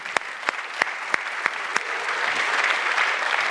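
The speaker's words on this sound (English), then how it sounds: "So I'd like to give him a round of applause." An audience applauds Mayor Francis Suarez, opening with a few sharp, separate claps that quickly swell into steady, sustained applause from a crowd in a hall.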